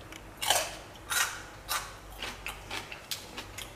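Bites into a fresh, crunchy celery stalk, about six sharp crisp crunches in an uneven rhythm, close and fairly quiet, with no talking.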